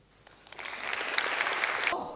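Applause swells from a seminar audience at a cleantech venture event, a dense crackle of many hands clapping that builds after a quiet start and stays steady, then cuts off near the end.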